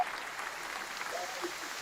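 Brief applause from a small group on a podcast set, steady clapping heard up close with no speech over it.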